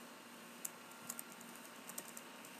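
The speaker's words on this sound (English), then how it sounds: "I will start typing here" A computer keyboard is typed on in a few soft, scattered keystrokes over a steady background hiss, faint and close.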